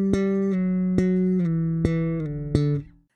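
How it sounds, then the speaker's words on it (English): Slap bass line played with two thumb strokes followed by a slide, heard alone: four crisp slapped attacks spaced evenly over ringing low notes that glide downward, close and loud, then cut off. "It's two thumbs and then slide."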